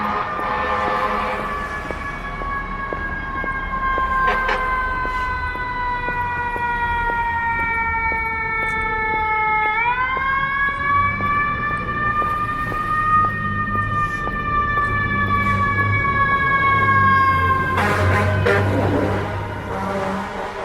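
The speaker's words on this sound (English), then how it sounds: "Have you ever noticed that like North American emergency sirens versus like European emergency sirens?" North American emergency vehicle siren on a downtown Toronto street, a loud, steady wailing tone that rises and falls, with traffic rumbling underneath and no talking.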